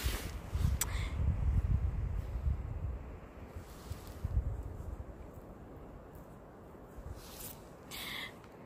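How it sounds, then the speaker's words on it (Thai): Strong gusts blow across low-growing wild ferns and plants, buffeting the microphone in rumbling bursts with soft rustling between, fading to a quieter breeze. "โอ้ยลมเอ้ยลมจะลมอะไรหนาเนี่ย"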